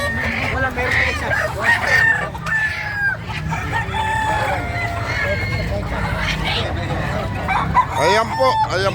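Native chickens crowd the scene as roosters crow repeatedly, one crow after another at moderate distance, with clucking and Filipino speech running underneath throughout.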